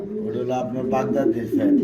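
Low, soft coos from fancy pigeons, including a red King and a Baghdadi female, repeat close by, overlapping with a person talking nearby.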